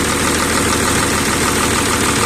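A Volvo EC210BLC excavator's D6E diesel engine runs steadily after its fuel system is bled, a loud, close, continuous idle with a low rumble and even mechanical knock throughout.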